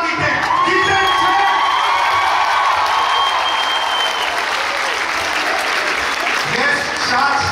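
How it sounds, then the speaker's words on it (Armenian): Loud, sustained applause and cheering from a large concert crowd, with whoops and children's shouts rising through a dense wash of clapping that continues steadily from start to finish. "Ես շատ շնորհակալ եմ այս ծափարությունների ձայների համար"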